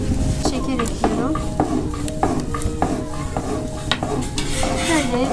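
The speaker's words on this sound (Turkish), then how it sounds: "Şöyle bir defa karıştırsanız yeterli." A spoon stirs Menengiç coffee with sugar in a pot, giving a run of quick, regular clinking strokes against the metal, close and clear over a faint background hiss, with no voice.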